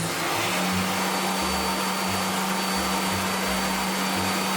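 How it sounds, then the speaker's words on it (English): A hair dryer of modest power runs steadily, a loud constant whooshing hum with a low pulsing drone underneath, alone without any voices. "This is an intermediate hairdryer, I would say, where the power is not particularly great, but it's okay."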